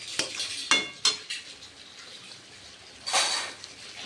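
Meat being stirred and braised in a kadai, a spatula scraping and knocking against the metal pan in a few sharp strokes over a soft sizzle, close and without talk.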